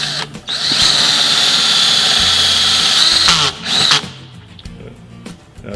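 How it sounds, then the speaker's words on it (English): A cordless drill motor drives a self-tapping screw into an armchair, giving a loud, steady high-pitched whine for about three seconds, then a short second burst before it stops. "Then take a self-tapping screw that's provided with the cordless drill motor."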